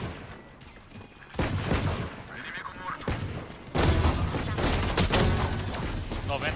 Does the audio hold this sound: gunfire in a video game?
yes